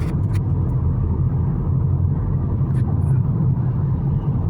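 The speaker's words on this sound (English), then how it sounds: "look at the traffic in the opposite direction, absolutely solid with lorries coming back from the port in Santos" Steady highway traffic on the Imigrantes road near Sao Paulo, with solid lines of lorries returning from the port of Santos, a loud continuous low rumble of engines and tyres heard from inside a moving vehicle.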